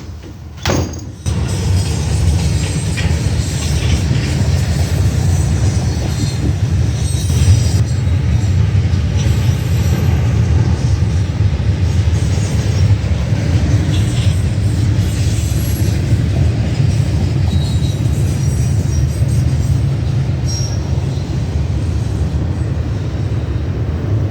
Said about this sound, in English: Then we got a Norfolk Southern train. It's another freaking intermodal.